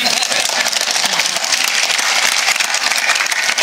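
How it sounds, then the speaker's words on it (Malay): Audience at a political rally in a Felda settlement applauding a speech, a dense steady crackle of clapping that stays loud and continuous throughout with no talk over it. "Tepuk tangan lagi."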